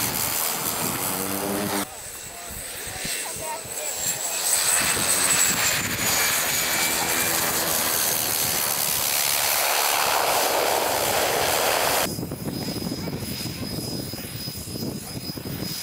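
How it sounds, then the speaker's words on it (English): A charter plane's engine roars steadily during a runway test in the Arctic, a loud, continuous propeller drone with shifting pitch and wind noise throughout. "This is a charter plane,"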